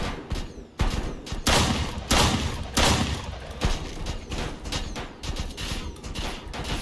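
Dense, continuous video game gunfire with overlapping bursts and heavy blasts, loud and chaotic, sounding like a busy battle.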